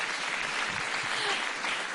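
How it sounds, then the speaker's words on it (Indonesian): Audience applause fills the room, a steady wash of many hands clapping at moderate volume for a couple of seconds without pause. "tepuk tangan"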